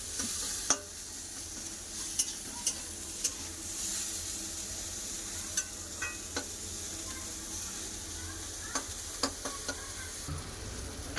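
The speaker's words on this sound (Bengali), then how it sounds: "কেটে রাখা পেঁয়াজ আর একটু ভালো করে ভেজে নেবো" Gentle continuous sizzling of onions frying in a pan, punctuated by regular light clicks and scrapes of a spatula; no speech.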